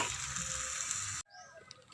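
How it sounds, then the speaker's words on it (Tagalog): A glass of water is poured into a cooking dish, giving a steady gushing hiss for just over a second that stops abruptly, followed by faint clatter. "Lagyan natin ng isang basong sabaw na tubig dahil a-absorb ito ang ating niluluto na ulay"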